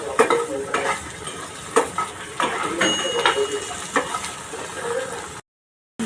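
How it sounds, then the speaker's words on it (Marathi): Sliced okra sizzles in hot oil in a kadhai, with a spatula scraping and clinking against the pan in several sharp strokes over a steady frying hiss. "मी चिरलेली भेंडी टाकते।"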